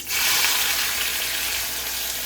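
Onion, garlic, curry leaves, tomato and dried chilli hit hot oil in a pan with a loud, steady sizzle that bursts in suddenly and holds as a dense hiss, no talking.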